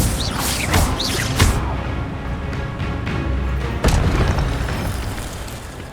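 Booming fire-spell blasts from the Incendio spell in the video game Hogwarts Legacy, a couple of sharp bursts rising out of a continuous loud rumble of combat noise.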